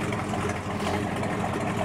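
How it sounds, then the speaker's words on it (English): A 1971 Plymouth Roadrunner idles with a rough, continuous exhaust rumble, close and fairly loud, steady throughout the brief moment. "Exhaust sounds beautiful."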